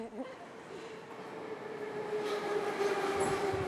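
An RER commuter train rumbling over a rail bridge at the end of a pedestrian street in a French suburb, a steady loud roar with a rising whine and faint wheel squeal.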